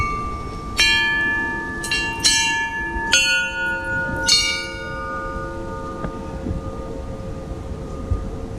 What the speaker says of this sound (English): they're actually asking you to ring these bells